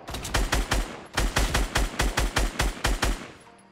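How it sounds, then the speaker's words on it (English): Rapid automatic gunfire in the Fortnite battle royale game, two close, loud bursts of evenly spaced shots separated by a brief pause, with no talking over them. "Watch it, you're getting shot from the right."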